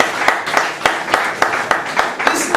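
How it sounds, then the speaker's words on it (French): A church congregation applauds during a service with a steady rhythm of many overlapping hand claps, moderately loud and continuous throughout. "Let's put our hands together for it."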